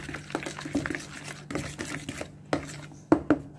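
Eggless banana cake batter being stirred in a bowl, giving soft wet swishes with a few sharper scrapes and clinks of the utensil against the bowl, close and fairly quiet, with no talking.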